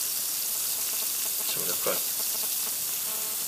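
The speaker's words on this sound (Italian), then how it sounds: "Facciamo vedere che fregge come le patatine fritte." Calcareous aquarium rock fizzes in acid with a steady, crackling sizzle like frying, close and continuous, while someone speaks briefly in the middle.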